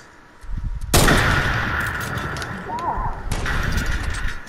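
Gunshots in the video game Fortnite: a loud, close sniper-like blast followed by crashing debris and a second shot a few seconds later, with a player talking underneath.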